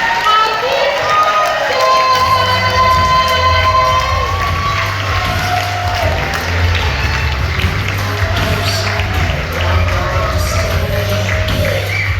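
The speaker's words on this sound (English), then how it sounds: "let's give a huge round of applause for Keely for being super brave tonight" Comedy club audience cheering and applauding for Keely after her set, a loud, sustained crowd roar of clapping and shouts that fills the room and carries on without a break.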